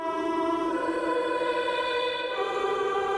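A Mosaic Voices vocal sample from Heavyocity's VAST plays forward as a sustained, steady choral-like tone, held evenly at moderate loudness throughout with no talk.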